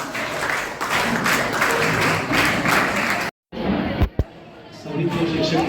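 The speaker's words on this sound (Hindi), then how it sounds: "बच्चे लोग ताली बजाएंगे। 3 claps go जोर से।" Schoolchildren at a Teacher's Day celebration clap loudly as a crowd, a sustained burst that cuts off, then a few sharp separate claps or thuds before scattered clapping resumes.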